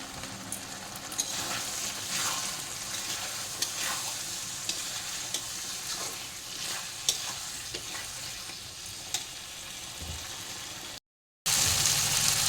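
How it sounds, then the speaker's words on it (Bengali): Ground cumin and coriander powder frying in a pan, a steady sizzle with stirring and scraping throughout, ending in a brief cut and a louder hiss. "এবার ভালো করে মশলাগুলো কষিয়ে নেব।"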